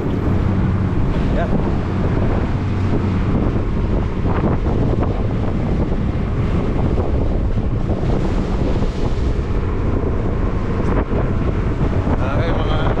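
Strong wind buffets the microphone while heavy Pacific waves wash and slosh around a fishing boat riding out a typhoon, a loud continuous rush with a voice speaking briefly.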